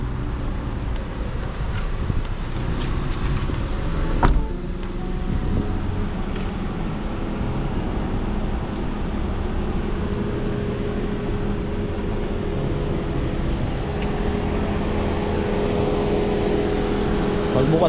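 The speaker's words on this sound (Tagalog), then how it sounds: "Bukas ang AC, lakas ng ano, yung tunog." Steady loud air-conditioning blower and engine hum inside a Suzuki Jimny AllGrip cabin, continuous throughout with a faint voice underneath.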